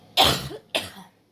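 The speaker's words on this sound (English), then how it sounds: "Still getting over that cough." Two separate coughs from a woman, close and fairly loud, the second a little softer, with a short pause between them and no talk.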